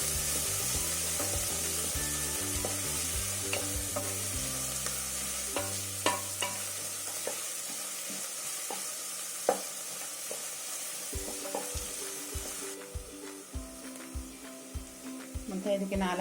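Onions frying and being stirred in a pan for cauliflower curry, with a steady close sizzle and scraping strokes throughout, and a voice speaking over parts of it.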